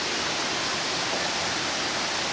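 A mountain stream running near the Gam River in Vietnam toward the end of the rainy season, a steady, close, full rush of water with no breaks.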